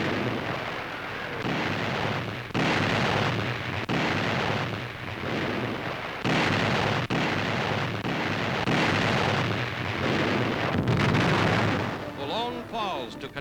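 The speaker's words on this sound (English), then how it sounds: "15-inch coastal guns open a devastating artillery barrage against the entrenched enemy in Boulogne." Archival newsreel of 15-inch coastal guns firing a heavy artillery barrage at Boulogne, a dense string of booming blasts and rumbling roar throughout, loud and continuous with brief dips between shots.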